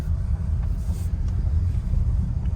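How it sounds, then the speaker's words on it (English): A steady low rumble of a 2021 GMC Acadia SLT AWD 3.6 rolling over a rough gravel driveway, with faint crunching and road noise throughout, no talking. "Riding on some rough gravelly driveway here."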